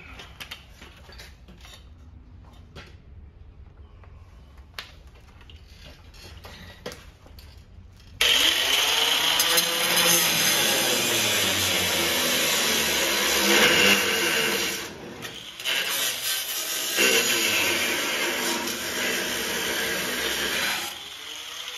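A grinding wheel works metal during front-end fabrication on a cab-over Chevy van conversion, starting abruptly after a quiet stretch and holding a loud, harsh whine with wavering pitch, briefly easing off before resuming.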